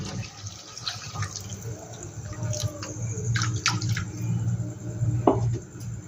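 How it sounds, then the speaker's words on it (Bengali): Water poured from the bowl used to rinse a mixer grinder into a pan of prawn curry, a steady splashing pour over a low kitchen hum. "আমি দেখো এই মিক্সি ধোয়া বাটিটা দিয়েই জল দিয়ে দিচ্ছি।"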